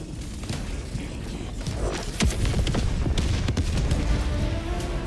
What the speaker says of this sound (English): Oh, that was an orbital strike?